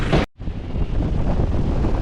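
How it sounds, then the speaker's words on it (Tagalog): Strong wind buffets the microphone on a farm in Angeles City, Pampanga, with a continuous roaring rumble after a brief cut at the start; no voices. "Napakalakas ng hangin dito."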